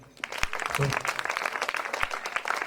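Dense clapping from a gathered congregation at a Telugu Christian worship service, a continuous crackle of many hands at moderate distance, with voices mixed faintly underneath.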